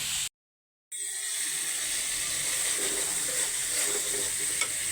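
Spice paste sautéing in a pan before prawns go in for a red amaranth greens dish, a loud continuous close sizzle with light stirring, after a short silent gap at the start.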